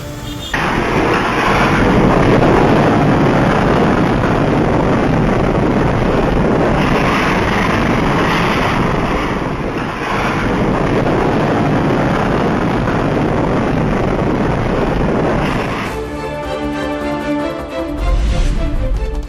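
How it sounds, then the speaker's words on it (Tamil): Strong wind drives heavy rain in Mettupalayam near Coimbatore, a dense, loud, continuous roar that lasts about fifteen seconds before giving way to a different, rougher rumble. "கோவை மேட்டுப்பாளையத்தில் பலத்த காற்றுடன் கனமழை."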